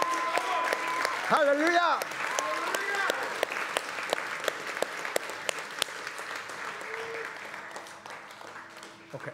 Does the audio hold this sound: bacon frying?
no